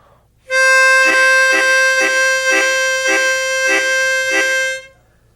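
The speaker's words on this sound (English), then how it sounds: "you can pull the tongue away and get a chord sound like this" A harmonica chord sounds when the tongue is pulled off the holes, a steady reedy tone held about four seconds alone, with a rhythmic pulsing swell of roughly seven beats.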